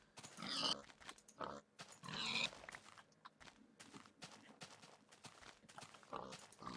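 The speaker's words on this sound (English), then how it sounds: "there's a couple more over here too. A lot of pigs." Pigs oinking in Minecraft, a few short grunts in quick bursts over quiet ambient game sound, with faint footstep-like shuffles between them.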